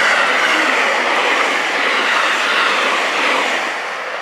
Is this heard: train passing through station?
yes